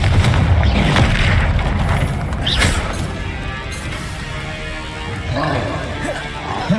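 Confringo fire spell explosions in the video game Hogwarts Legacy, heavy booms and crashing blasts bursting out of a dense, loud wash of battle effects.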